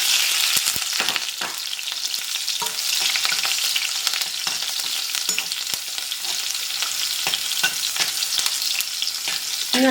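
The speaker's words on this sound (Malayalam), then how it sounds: "ഇനി നമുക്ക് ഈ പച്ചമുളകും കൂടെ അതിൻ്റെ കൂടെ ഒന്ന് വറുത്തെടുക്കാം" Green chillies fry in hot oil for a Kerala bitter gourd kichadi. They give a loud, dense, steady sizzle with scattered crackles and stirring clicks, and no one speaks.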